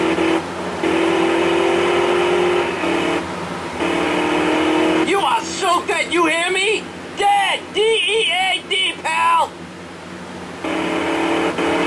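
A car in Grand Theft Auto San Andreas pulls handbrake turns, its steady engine drone running throughout while voices talk over the middle stretch.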